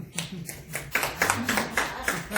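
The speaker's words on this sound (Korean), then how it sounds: "박수 한번 쳐보세요" Hands clapping from an audience at a Korean university lecture, a loose scattering of claps rising and falling in small bursts beneath a roomy, reverberant hall.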